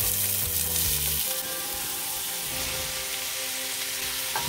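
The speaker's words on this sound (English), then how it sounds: "I'll pop some oil in this pan. I'm heating it up for our onions and carrots and celery." Onions, carrots and celery fry in hot oil in a pan, giving a loud, steady broadband sizzle that carries on unbroken from near the start, with a brief clatter at the beginning.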